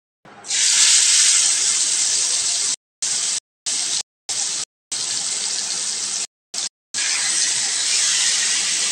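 Chicken pieces fry loudly in hot oil with a dense, steady sizzle that cuts out briefly several times before resuming, close and with no talk.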